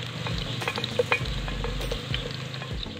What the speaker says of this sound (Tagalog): Una, ipipride muna natin yung carrot at saka patatas.